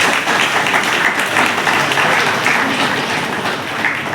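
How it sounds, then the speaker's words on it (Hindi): An audience at a cow-protection cowshed inauguration ceremony applauds loudly and steadily, a dense wash of many hands clapping close by throughout. "सभी जोरदार तालियां।"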